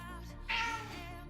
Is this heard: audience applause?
no